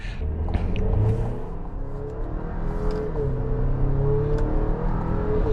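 The 2.5-liter four-cylinder engine of a 2026 Chevy Traverse RS AWD revs and settles repeatedly, a steady droning hum with rising and falling pitch that stays loud and close throughout.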